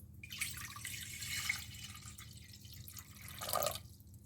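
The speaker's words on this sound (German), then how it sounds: "Und in der Zwischenzeit gebe ich Wasser in einen Topf" Water runs and splashes into a pot, a steady trickle that grows louder near the end, with a low hum underneath.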